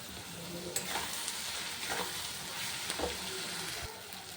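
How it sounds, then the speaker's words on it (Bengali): Sliced onions and tomatoes with salt frying in a pan for chilli chicken, a steady sizzle broken by a few scraping stirs of the spatula. "পেঁয়াজটা হালকা ভাজা হয়ে গেছে"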